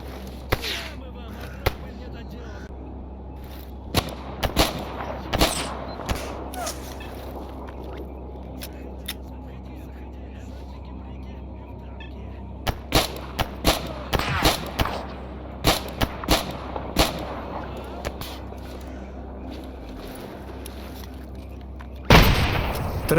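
Scattered booms of video game artillery explosions go off one after another in a STALKER-style mod, some sharp and close, others duller and distant, over a steady low rumble.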